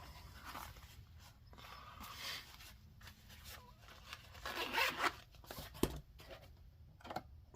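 A double zipper on a quality pouch is pulled in a quiet room, with soft handling rustles and then a brief, fairly close zip burst near the end.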